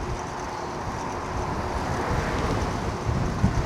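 Strong wind buffets the microphone in a constant low rumbling roar, with a few heavier gusts near the end and no voices.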